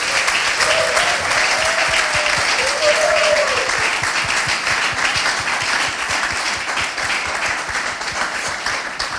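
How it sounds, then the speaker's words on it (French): A church congregation claps and applauds steadily throughout, a dense continuous patter of hands with faint singing or voices threaded beneath it. "en même temps on acclame pour l'Éternel"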